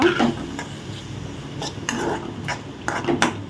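A spoon stirring mashed banana roasting in ghee in a metal pan, giving repeated scraping clinks against the pan in an uneven rhythm, close and moderately loud, while someone talks.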